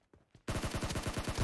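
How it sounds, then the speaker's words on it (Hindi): Rapid shotgun fire in PUBG Mobile: after a few faint taps, a loud close run of about a dozen evenly spaced booming shots in quick rhythm, with no talk over it. "शॉटगन से मार रहे हैं यार."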